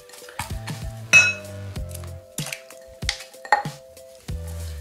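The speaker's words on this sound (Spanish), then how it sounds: "So we're just gonna mix it until the whole gelatin is incorporated into the milk." A utensil stirs gelatin into milk in a metal pot, making repeated clinking and scraping knocks against the sides in an uneven rhythm, close and clear with a faint ringing tone beneath.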